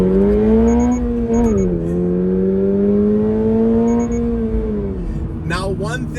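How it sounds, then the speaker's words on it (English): A 2022 Toyota GR86 with a 2.4-liter boxer engine pulls hard from a stop. The loud, close engine note climbs steadily, dips at two gear changes and climbs again each time. "We'll do a nice acceleration from the stop."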